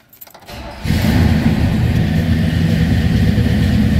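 A 1964 Pontiac LeMans engine cranks briefly with a few quiet clicks, then catches and settles into a loud, steady rumbling idle close by, with no one talking.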